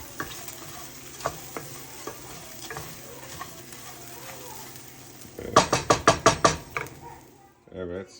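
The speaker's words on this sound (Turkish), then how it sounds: "Şöyle de eti var onu kızartacağım." Meat browns in a pan with a soft steady sizzle, broken by scattered knocks and then a quick burst of sharp metallic clanks from stirring or the pan, with a brief voice near the end.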